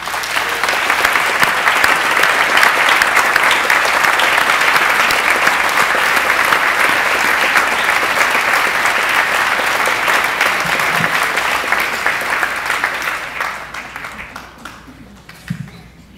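Sustained loud audience applause at a rabbinic ordination ceremony, a dense crowd clapping steadily for over ten seconds before tapering off.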